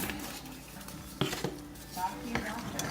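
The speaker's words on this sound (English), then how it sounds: "We're going to stir that up." A spoon stirring a chocolate peanut butter mixture in a bowl, giving faint scrapes and a few sharp clinks against the side, with some quiet talk in the background.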